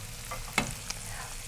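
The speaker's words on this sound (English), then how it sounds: "We have sizzle on the chicken" Flattened chicken browning in a hot frying pan, a soft steady sizzle with a sharp clatter or stir and a smaller tap soon after, close and fairly quiet with no voices.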